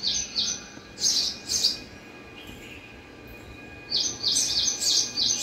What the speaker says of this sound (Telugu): ఇవన్నీ కూడా ఊర పిచ్చుకలే.